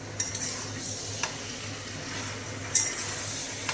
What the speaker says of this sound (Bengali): দেখো আমি সব চিকেনগুলো এর মধ্যে দিয়ে দিলাম, দিয়ে এগুলোকে পুরো এর সাথে মিশিয়ে নিলাম।